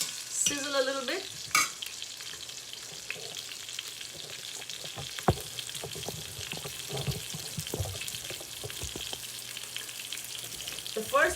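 Cumin seeds sizzling in hot oil in a pan for an Indian-style pasta curry, a steady close crackle and hiss with small pops and occasional clinks of a utensil.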